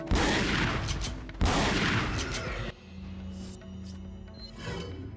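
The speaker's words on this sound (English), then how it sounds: "Good thing I have a shotgun with bullets that work." Two heavy shotgun blasts in Resident Evil 4 boom out back to back, each followed by a long rolling decay, then the action drops to quieter game ambience with faint clanks.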